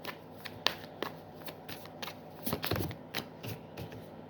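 A deck of tarot cards shuffled by hand, a run of crisp riffling flicks and soft slaps at an irregular rhythm, close and alone.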